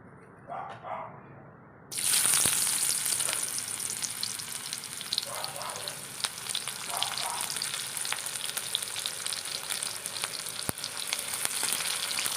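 Onions sizzling as they hit hot, leftover fish-frying oil in a pan for an Assamese fish curry, a loud steady crackling hiss that starts abruptly after a quiet moment and carries on with occasional stirring scrapes.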